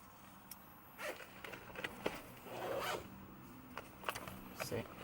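A zip being opened on a car trim panel during installation of a DVD head unit, heard as several short raspy pulls between pauses, with someone talking intermittently.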